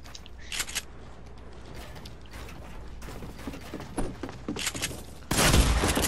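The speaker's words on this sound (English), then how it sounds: "I literally shot with my shotgun" Shotgun fire in a video game comes through as sharp mechanical clacks and gunshots scattered across the stretch, ending in a loud heavy blast near the finish.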